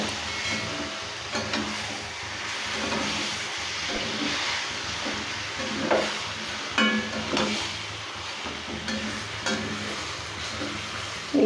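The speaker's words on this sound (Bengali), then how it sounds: "চিকেনটা মশলার সাথে ভালো করে আমি কষিয়ে নেব।" Chicken frying and being stirred with spices in a pan, giving a steady close sizzle with occasional scraping and clinking from stirring, no talk over it.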